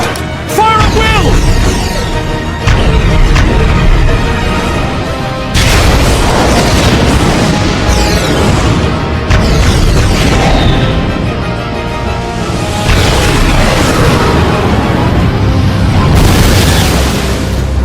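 Weapons fire and explosions boom in a Xenoblade Chronicles cutscene as a colony is defended. Repeated loud blasts and bursts recur across the scene over dense layered effects and music, with voices shouting in between.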